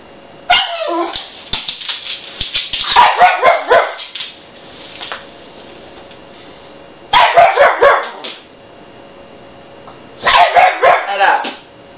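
A pug dog barks and yips in three loud, close bursts separated by quiet gaps, with a voice mixed in.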